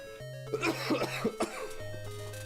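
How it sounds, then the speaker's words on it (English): A short burst of coughing, several rough hacks in quick succession over a steady electronic hum. "sorry if I start coughing. Still a little bit sick."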